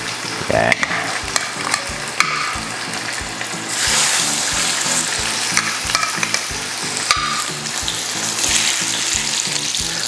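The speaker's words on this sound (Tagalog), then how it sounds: "Pwede na natin iprito itong salmon." Salmon frying in hot oil in a pan, a loud, close, crackling sizzle that swells as pieces go in, with rhythmic ticking and clicks running underneath, no voices.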